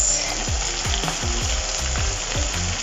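Vegetables for fried rice sizzle loudly in a hot pan, a steady close crackle broken by repeated rhythmic scraping and stirring strokes about twice a second.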